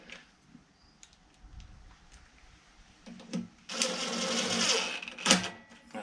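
Two 10mm nuts are tightened onto a trash-picked 21-inch lawn mower under repair, heard as close ratcheting and clicking bursts, with a louder sustained stretch of rapid ratchet clicks toward the end.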